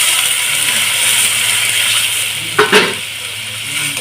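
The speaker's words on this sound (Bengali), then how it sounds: "এখানে আমি পরিমাণ মতো জল দিয়ে দিচ্ছি" Water poured into a hot pan of ground coriander and pepper paste for a Bengali mourala fish curry, a steady loud sizzle with a brief splashing burst near the end as the liquid hits the oil.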